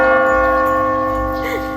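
A church bell rings with a sustained, resonant hum of overlapping tones that slowly fade, loud and close with no other sounds.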